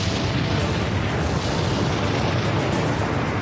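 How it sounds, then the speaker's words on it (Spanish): Mount Vesuvius erupts after an earthquake, a deep, sustained rumbling roar of volcanic explosion that fills the whole stretch with continuous heavy booming and no pauses. "Luego el Vesubio erupcionó."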